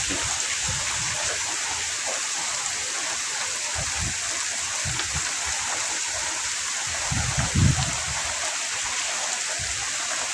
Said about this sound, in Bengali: অনেক বৃষ্টি হইতেছে মাশাআল্লাহ, প্রচুর পানি বেড়ে গেছে।